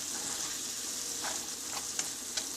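Sweet and sour pumpkin curry with amchur, tamarind and sugar being stirred in a pan, a steady sizzle with a few soft scraping strokes of the spoon near the end.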